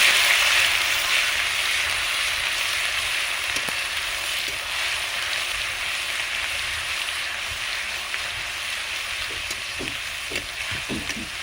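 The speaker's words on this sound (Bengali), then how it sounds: "রসুনগুলো ভালোভাবে ভেজে নেব" Steady, loud sizzling of something frying in hot oil, with occasional soft scraping and stirring clicks toward the end.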